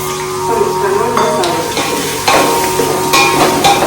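Onions fry in oil for a samosa filling in a village kitchen, a loud close sizzle broken by clattering stirs and metallic scrapes against the pan.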